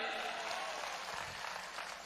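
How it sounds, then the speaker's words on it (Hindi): Crowd applause at a large political election rally, a steady broad wash of clapping that fills the short stretch without a break. "तालियां इनके लिए, तालियां।"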